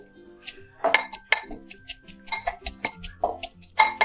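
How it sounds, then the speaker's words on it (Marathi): Sharp, irregular knocks of a pestle pounding ingredients for thecha, a chili paste, in a mortar, about nine hard hits with short pauses between, close and fairly loud. "आता हे सर्व साहित्य आपण खलबत्त्यात कुटून घेणार आहोत"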